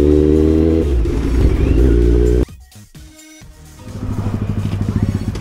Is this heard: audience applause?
no